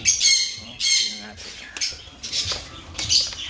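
A grizzle breeder pigeon gives several loud, close squawking calls in short bursts, with faint clatter and a voice in the background.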